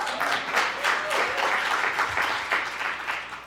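Sustained audience applause at an Ontario government announcement on a strategy to end gender-based violence, a dense steady wash of many hands clapping at even loudness throughout, with no speech over it.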